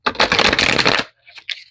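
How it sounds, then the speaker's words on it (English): A tarot card deck being shuffled, a dense riffling burst for about a second, then a few softer card taps and slides, close and clear with no talking. "I have to shuffle this one."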